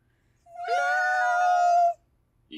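A voice imitates a cat, giving one long, clear, drawn-out meow at close range that rises and holds for over a second before cutting off, with quiet around it.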